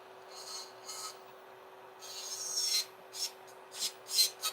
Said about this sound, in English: I might come here to file some off.